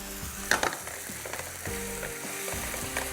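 Chapli kabab mixture with a few spoonfuls of yogurt frying in a pan, a close, busy sizzle with quick stirring and scraping clatter, no talking.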